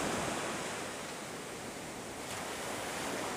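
Ocean surf washes steadily onto Warwick Long Bay beach in Bermuda, a broad continuous rushing roar with a little wind, no voices.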